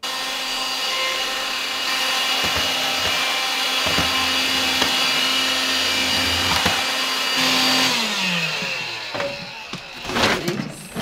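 A vacuum cleaner runs steadily with a loud, constant whirring drone, its motor pitch dropping near the end as it winds down amid some clatter.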